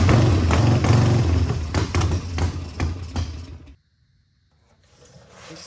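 A 1987 Harley-Davidson Sportster custom chopper engine running on choke, a loud rumbling idle with knocking mechanical beats that cuts out abruptly, followed by near silence and faint noise.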